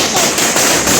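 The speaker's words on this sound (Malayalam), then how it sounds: "അപകടകരമായ രീതിയിൽ പടക്കം പൊട്ടിച്ചത്" A firecracker bursts during a street victory celebration procession, one loud, close, sharp crack with a dense noisy burst filling the whole second.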